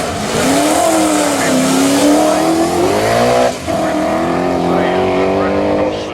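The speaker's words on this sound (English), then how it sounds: "People off the street racing their cars, quarter mile, here on the waterfront." Street cars racing a quarter mile on a waterfront at the Geelong Revival motoring festival, a loud sustained engine roar with rising revving pitch throughout, briefly dipping mid-way as another car takes over, with talk faintly mixed in.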